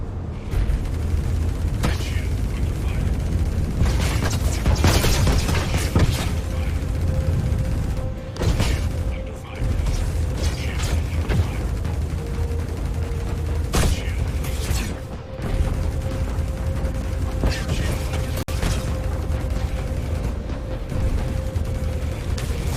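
Turrets firing at the player's ship in Star Citizen, a stream of sharp blasts and booms spread through the clip over constant engine hum, with a voice talking at times.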